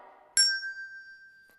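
A small bell is struck once, giving a bright ding that rings on and slowly fades, after a faint murmur.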